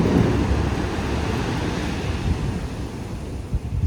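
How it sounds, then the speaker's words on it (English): Violent, rough ocean waves at a Cabo beach resort, heard as a continuous loud surf roar mixed with wind buffeting the microphone, steady throughout with a few sharper gusts near the end. "it's pretty violent waves."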